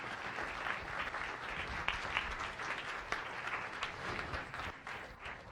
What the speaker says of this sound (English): Let's give Dr. Kakis one more round of applause.